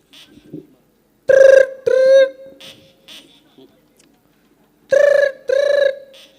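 A telephone rings in two bursts of paired electronic trills, loud and close, with brief speech and small noises in the gaps between rings.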